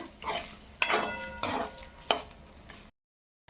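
A spoon stirs curry with dried red chillies in a pan: three distinct scraping strokes with a soft sizzle underneath, close and moderately loud, then a sudden stop into silence.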